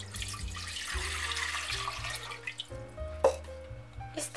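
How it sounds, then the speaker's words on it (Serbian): Remaining water poured from a container into a small saucepan while making a no-bake cake, a soft splashing trickle running under steady background music. "a ostatak vode uliti u šerpicu"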